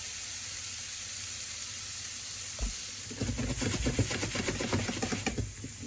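Prawns browning in a pan for a Jamaican peppered prawn dish give a steady soft sizzle, and a denser crackling burst of frying picks up partway through, with no talking.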